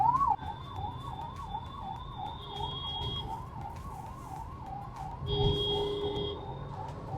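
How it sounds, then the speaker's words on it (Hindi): An ambulance siren stuck in a traffic jam on the Lansdowne to Delhi road wails, cycling steadily up and down close by over the low rumble of idling traffic and occasional horn tones. "भाई एम्बुलेंस फंसी हुई है पीछे"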